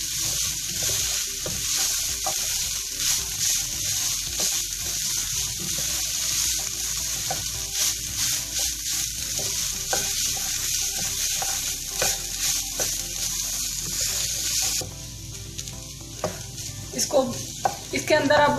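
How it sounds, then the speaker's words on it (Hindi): Minced meat (keema) fries in a pan on slow heat with low oil, a steady sizzle under frequent stirring scrapes and clinks, ending in a few sharper spoon knocks. "कीमे को हम स्लो हीट पे अच्छे से भून लेंगे।"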